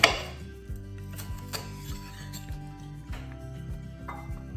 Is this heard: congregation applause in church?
no